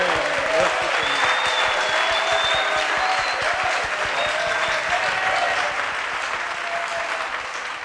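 A church congregation applauds in a dense, continuous wash of clapping from many hands that stays loud and even throughout.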